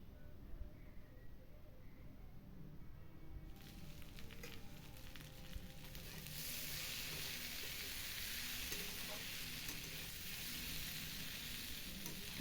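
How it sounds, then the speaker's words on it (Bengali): Spring onion greens frying in a wok set up a steady, quiet sizzle that grows louder and hissier partway through and carries on without talk. "এদিকে পেঁয়াজকলি ভাজাটা ভেজে নিই"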